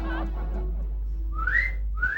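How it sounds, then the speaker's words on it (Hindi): Someone outside whistles in short rising tones, two or three clear calls near the end, with a steady low hum underneath and no talking. "ये बाहर देख के सीटी किसे बजा रहा है?"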